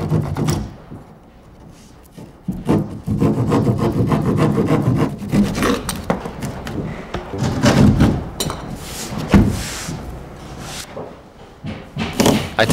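A drywall panel being trimmed to length for a snug corner fit during wall and ceiling installation, heard as rough, steady rasping and scraping strokes of a blade or rasp across the gypsum board, close and fairly loud with a few knocks.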